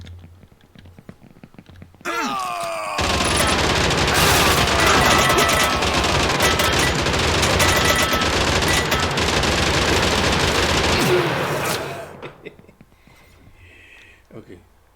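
A rapid, loud burst of repeated shotgun blasts from a 2D sidescroller video game, firing continuously for about ten seconds before cutting off, with quieter game sounds before and after.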